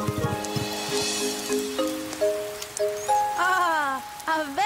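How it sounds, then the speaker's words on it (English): Rain patters on a rainforest canopy alongside sustained tonal music and swooping melodic notes in a cartoon, with no voices present. "Oh, no. It's raining again."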